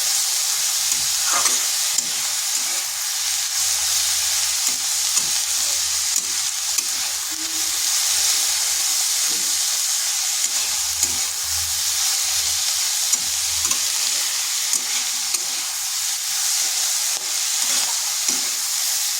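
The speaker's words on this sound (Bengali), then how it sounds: "এটাকে হাই আঁচে বেশ কিছুক্ষণ এইভাবে ভেজে নিতে হবে।" Cabbage fries on high heat in a pan with a loud, continuous sizzle and hiss, broken by occasional soft stirring taps throughout.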